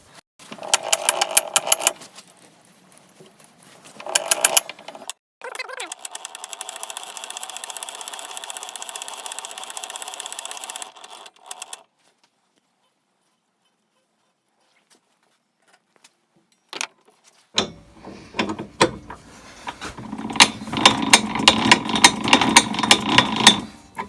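An electric string winding machine motor whirs steadily for several seconds after clicks and short bursts, then stops; later another run of mechanical whirring and rattling.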